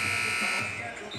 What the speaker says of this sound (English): Buzzer sounds, both teams breaking the huddle.